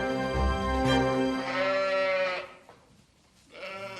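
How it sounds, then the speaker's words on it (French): Sheep bleat on a farm with a flock of 100 ewes, several loud, wavering calls close by, one after another, with a brief lull before another starts. "L'élevage de Flora compte 100 brebis"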